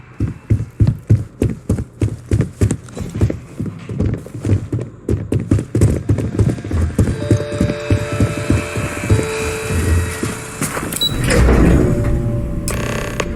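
An elevator in the video game Starfield runs with a rhythmic mechanical clunking that repeats steadily, then gives way to a humming, whirring ride with layered tones and a louder rushing swell near the end.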